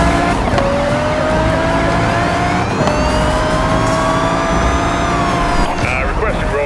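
Cars roaring through a street race along Gullwing Drive in a racing video game, with rising engine whines, tire noise and a siren-like wail, loud and continuous under background game sound.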